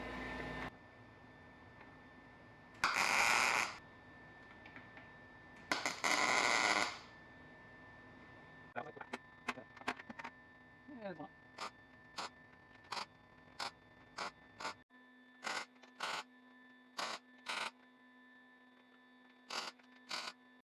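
Two short welding bursts of about a second each while building a back brace, followed by a run of sharp clicks and brief taps over a steady low hum.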